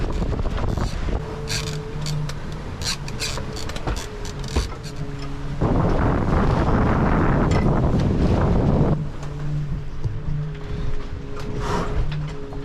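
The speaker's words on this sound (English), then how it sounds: "The wind is starting to pick up a little bit" Wind buffets the microphone on a sailboat crossing the North Sea, a broad rushing roar that swells loudly in the middle over a constant hum and the wash of the sea.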